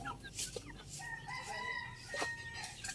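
A rooster crows loudly while several chickens cluck and squawk around it, a busy backyard farmyard chorus with no talking.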